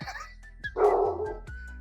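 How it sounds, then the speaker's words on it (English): A dog barks indoors in a couple of short, sharp barks close by, with a low background hum and brief quieter sounds between them. "There's the dog."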